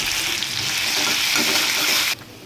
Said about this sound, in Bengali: রসুন কাঁচা লঙ্কাটা ভাজা ভাজা হয়ে গেছে